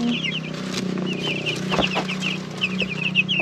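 Small chicks cheeping in a pen, a steady chorus of high, quick peeps over a low background hum, with fowl clucking mixed in, close and fairly loud, no talking.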